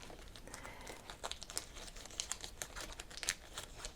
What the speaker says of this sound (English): Magazines are better to use than cardstock because they're easier to crinkle up.